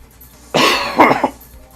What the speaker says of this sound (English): I don't know why I keep coughing.